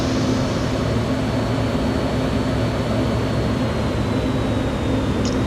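An F-16D Fighting Falcon jet in Microsoft Flight Simulator 2024 gives a steady, loud, unbroken engine roar with a constant hum, heard on its own without any talk.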